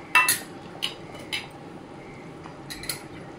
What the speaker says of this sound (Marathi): आणि चांगलं असं मिक्स करून घेऊया